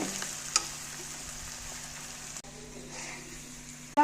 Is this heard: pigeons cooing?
no